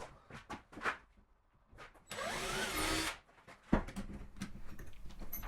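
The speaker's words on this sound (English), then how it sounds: "Then I'll drill a hole in each arm." Power drill boring a hole into a wooden arm of a leather stitching pony, a short whining burst of drilling between quieter taps and handling knocks, fairly close.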